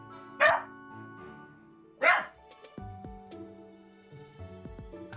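A pet dog indoors gives two sharp barks about a second and a half apart, fairly close, over the tones of video game music playing in the background.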